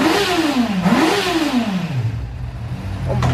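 Kawasaki Fan 600R motorcycle engine revving ahead of a top speed test: a close, loud wavering rev that climbs and dips twice, then settles back to a lower idle.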